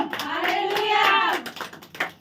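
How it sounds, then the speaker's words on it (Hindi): Congregation at a Hindi church service clapping hands, a brief burst of claps with a raised voice calling out over it and a few scattered claps trailing off at the end. "जोर से ताली करो, बोला हालेलुया"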